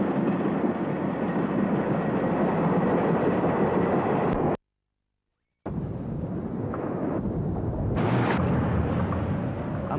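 A train runs along a railway line, a continuous loud rumbling roar that cuts out abruptly for about a second before resuming with similar intensity and a few brief higher-pitched tones.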